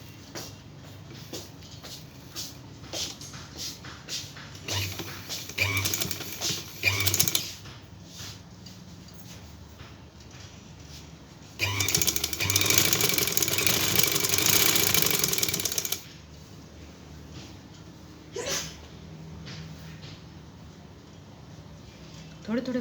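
A sewing machine stitches joint lace onto a trouser in short whirring runs, one longer and louder stretch in the middle, while someone talks between and over the stitching.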